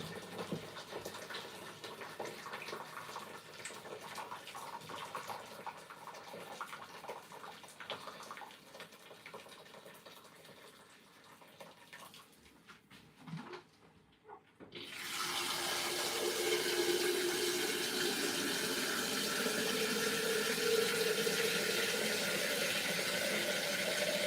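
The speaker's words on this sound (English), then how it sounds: "I'm going to throw in the kettle of boiling water again" Boiling water from a kettle pours into a cooking pot, a steady loud rushing splash that starts abruptly after quieter kitchen noise and continues evenly to the end.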